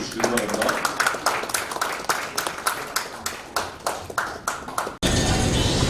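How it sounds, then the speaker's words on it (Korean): At a Korean commemorative lecture event, an audience claps in distinct, slightly uneven hand claps welcoming a speaker to the stage, before a sudden change to a noisier, louder room sound. "여러분 등단하실 때 큰 박수로 환영해 주시기 바랍니다."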